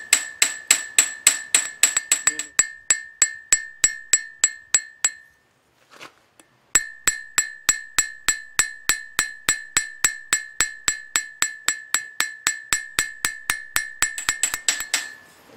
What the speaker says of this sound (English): I'm going to take this small cross-peen hammer and I'm going to go up either edge